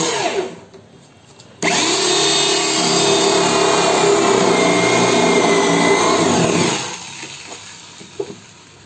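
A power drill fitted with a 20 mm trident-style bit bores into wood while a 6x4 folding diwan bed is being built. It starts abruptly into a loud, steady whining grind that holds for about five seconds, then winds down, leaving quiet room noise.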